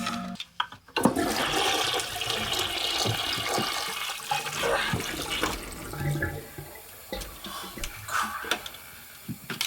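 Toilet flushing in a Breaking Bad scene, a loud rushing gush of water swirling down the bowl, then refilling with trickling and gurgling tank water over several seconds, with a few sharp clicks and knocks.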